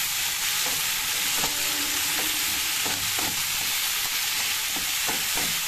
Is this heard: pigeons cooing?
no